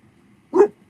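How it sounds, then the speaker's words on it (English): A single short dog bark, sharp and fairly close, in an otherwise quiet room. "Esther's gonna tell her dog, July, to not bark at the people who come inside"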